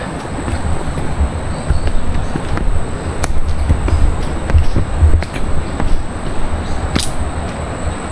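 Steady broadband rushing of water fills the scene, continuous and fairly loud, like a river flowing nearby in a forest at Bega Falls, with a few faint clicks on top.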